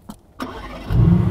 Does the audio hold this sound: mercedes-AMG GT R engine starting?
yes